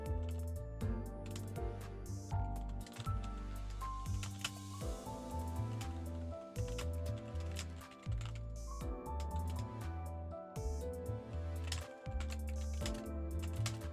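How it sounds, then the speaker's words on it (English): Someone types on a computer keyboard, a steady run of quick clicking keystrokes up close with brief pauses, mixed with background game music. "Typing."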